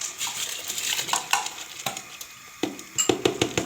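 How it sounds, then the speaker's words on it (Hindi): Rice goes into a pot of boiling salted water with oil, making clinking, scraping and splashing sounds over a sizzling, bubbling bed, with a few sharp metallic knocks near the end. "अब इसमें चावल डाल देते हैं।"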